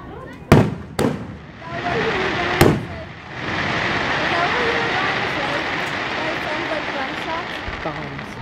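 Several sharp booming Fourth of July fireworks bursts go off early, then a dense crackling, rumbling barrage continues steadily, with people talking faintly underneath.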